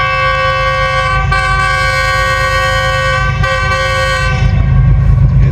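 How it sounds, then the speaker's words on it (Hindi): The Business Express train arrives at Jahanian station at night, blowing a loud, sustained horn that holds for several seconds with brief breaks, while heavy rumbling of the rolling train fills the background. "ये 33 अब आ रही है बिजनेस एक्सप्रेस।"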